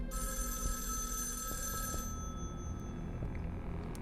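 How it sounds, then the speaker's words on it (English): A telephone rings inside a house in the game Erica, a steady, fairly quiet electronic bell tone lasting about two seconds and then fading into a low room hum, with no voices. "the phone's actually going to ring in this house"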